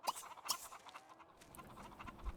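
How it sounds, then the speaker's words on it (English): A chicken clucking in The Sims 3 farm life, several short faint clucks near the start followed by quieter scattered calls over a soft background. "now he's going to fight with Charles the evil chicken"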